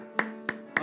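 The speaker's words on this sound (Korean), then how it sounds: "우리 하나님께 영광의 박수를 올려드립니다." Three sharp, evenly spaced claps ring out in quick succession during a Korean-language church worship service, with a steady sustained tone humming beneath them.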